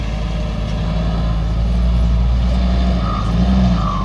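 A Hino Mega six-wheel truck with a turbocharged engine of about 240 horsepower climbs a steep slope, its engine a loud, steady low drone that holds strong under load throughout.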